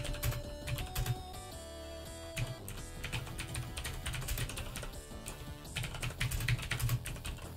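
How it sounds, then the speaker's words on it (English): Rapid, steady typing on a loud mechanical keyboard with clicky blue switches, dense keystrokes clattering close up with only brief pauses. "I apologize for my loud keyboard"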